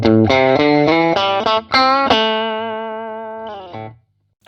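Electric guitar through a Birdsong Kestrel amp set to a crunchy, slightly distorted tone, picking a short melodic run of notes and then letting a final chord ring and decay, loud and close with no talking.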